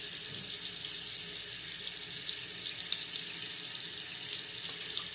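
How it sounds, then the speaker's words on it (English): Water runs steadily from a bathroom tap into a sink during a face rinse after a shave, a continuous close hiss with no break and no voices. "I'm going to rinse the face"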